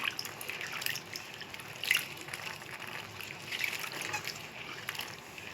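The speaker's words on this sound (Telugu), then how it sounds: "ఈ నీళ్ళు పడేసి మళ్ళీ వేరే నీళ్ళతో కడుగుతాను" Water poured and trickling while harvested greens are washed, soft irregular splashes and drips close by, with a faint voice now and then.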